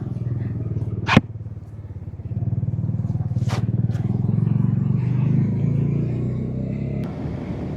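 A Bajaj Dominar motorcycle engine rumbles steadily while riding on the road, with a couple of sharp clicks and bumps, the drone swelling and easing slightly.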